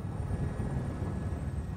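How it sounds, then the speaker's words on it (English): Steady, loud rotor and engine drone of a helicopter coming in to land at a Tokyo heliport after an earthquake and tsunami, a continuous low rumble with no talking over it. "helicopter is given the all-clear to land"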